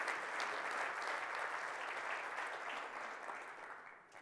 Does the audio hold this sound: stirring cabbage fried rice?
no